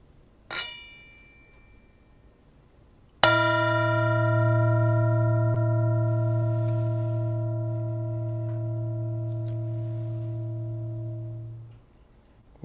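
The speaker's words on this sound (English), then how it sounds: "enjoy the sound of the bell" A meditation bell at a memorial gathering rings out after a faint light tap: one clear strike followed by a long, pure, sustained tone that slowly fades over about nine seconds, alone and undisturbed.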